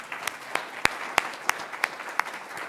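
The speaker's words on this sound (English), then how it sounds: "we could just honor your presence with a little round of applause." A church congregation gives a short, sparse round of applause, a handful of distinct claps spaced out rather than a dense ovation.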